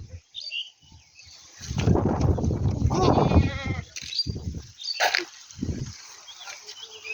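Goats bleat a few times nearby, short wavering cries mixed with people talking and calling out at a feeding spot, with louder voices in the middle and quieter gaps.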